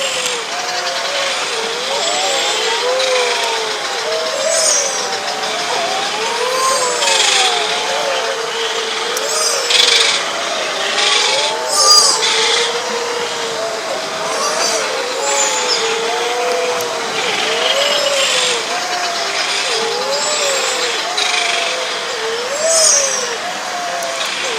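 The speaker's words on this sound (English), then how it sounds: "So you don't tend to see the wedge-tailed shearwaters, but this is the sound of their calls at night." Wedge-tailed shearwaters calling at night on Lady Musgrave Island, a chorus of overlapping wavering, moaning cries rising and falling continuously over a steady background hiss.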